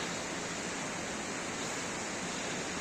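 A steady, broadband rush of falling water roars continuously without a break, like a waterfall heard from nearby.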